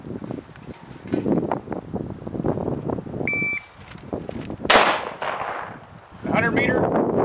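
Rifle shot fired at a 100-meter target, one sharp loud crack standing out over gusty wind noise and handling sounds, with a brief electronic beep earlier.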